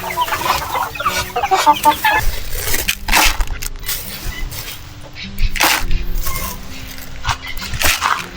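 Native chickens cluck and squawk on a farm alongside Muscovy ducks and guinea fowl, with bursts of loud nearby clucking and flapping over steady outdoor background noise.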